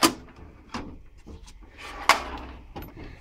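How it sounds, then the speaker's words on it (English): A metal tool box drawer slides open with several sharp clacks and scraping rattles spread over a few seconds, close up and without talking. "And you get the second drawer down,"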